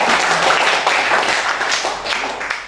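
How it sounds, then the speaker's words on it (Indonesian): A seminar audience of university students claps together, a dense, steady patter of many hands at close range that fills the whole stretch and eases slightly toward the end. "Tepuk tangan dulu Bu"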